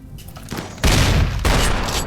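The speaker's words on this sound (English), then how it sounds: "Want me to use the mortar first?" Mortar fire in a video game: a muffled thump sounds first, then two loud, sustained bursts of booming blast noise follow in quick succession.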